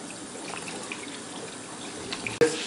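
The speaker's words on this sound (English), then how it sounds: "is the final rinse, which is done with a tray siphon" Water runs steadily through a tray siphon during the final rinse of black-and-white photo paper, a soft continuous flow with a sharper splash near the end.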